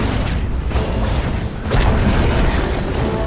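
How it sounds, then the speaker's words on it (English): A Dire middle tower collapses in a Dota 2 match, heard as a dull, rumbling boom with a couple of sharp impacts layered over steady loud game noise. "Dire's middle tower has fallen."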